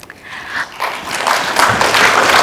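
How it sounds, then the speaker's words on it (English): Audience at an ICPD talk breaking into applause, a short burst of clapping that starts faintly and swells into a fuller, steady round of hands over a couple of seconds. "For yourself, clap for yourself, yes."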